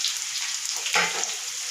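Potatoes frying in a pan for an egg curry, with a steady bright sizzle throughout and a short louder crackle near the middle as they are turned, close and alone.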